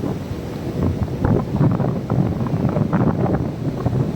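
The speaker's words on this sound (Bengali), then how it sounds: "সমুদ্রের ঢেউ" Sea waves wash onto Puri beach, a low churning surf heavily buffeted by strong wind gusting across the microphone.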